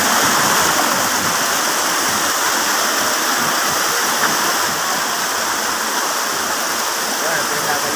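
Loud, steady rushing of a waterfall, a dense unbroken roar of falling water close by.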